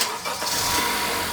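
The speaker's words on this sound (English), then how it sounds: "I'm going to start my engine." A car engine cranks and catches during a DIY oil change, with a short burst of starter noise followed by a loud, steady rush of running engine at close range.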